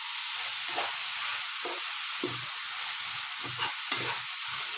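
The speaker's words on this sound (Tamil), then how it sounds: "கொஞ்சோண்டு எடுத்து வச்சுருக்க புதினாவையும் சேர்த்து வதக்கிக்கலாம்" Peanut chutney ingredients with mint leaves being sautéed in a pan, a steady close sizzle with repeated soft scraping stirs from a spatula, no talking.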